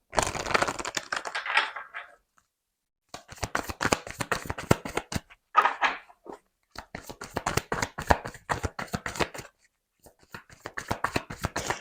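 Tarot cards are shuffled and drawn in quick bursts of riffling and slapping, close up. Short silent gaps separate the bursts of card handling.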